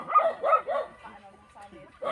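A puppy barks in a few short, sharp yips close by on a mountain trail, followed by fainter whimpers, with people talking nearby.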